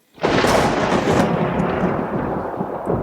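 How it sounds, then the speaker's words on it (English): Thunder rolls in during a stage performance of The Sound of Music, a loud rumbling crash that swells quickly and sustains for several seconds with no voices over it. "the lightning says something to the thunder, and the thunder answers it back"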